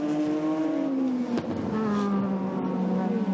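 A Nissan Motul Vortex Z Super GT race car in the 2007 Autopolis 300 km round screams past with a loud, sustained engine whine whose pitch sags steadily as it goes by.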